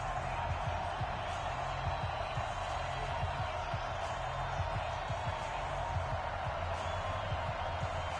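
A stadium crowd in the video game Madden NFL 20 roars steadily at a Chicago Bears versus Atlanta Falcons matchup, with a continuous wash of cheering and a few faint thumps throughout.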